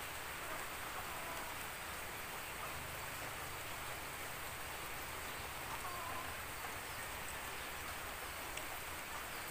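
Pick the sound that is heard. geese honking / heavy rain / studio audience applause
heavy rain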